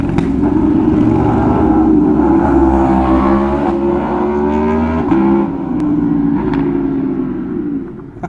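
Vehicles rev and rumble on a mountain road where riders run laps back and forth, a loud engine drone rising and falling close by for several seconds.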